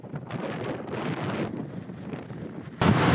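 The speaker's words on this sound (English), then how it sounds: "it's so windy I can barely open my car door." Strong wind in a parking lot in New Plymouth, New Zealand buffets the microphone in heavy, roaring gusts, ending in a sudden louder blast.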